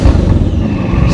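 A Bugatti 8-litre W16 quad-turbo engine running, a loud, dense low rumble filling the short moment, close and steady with no voices.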